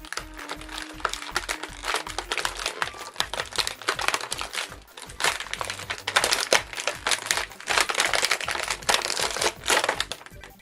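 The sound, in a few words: action figure being removed from plastic packaging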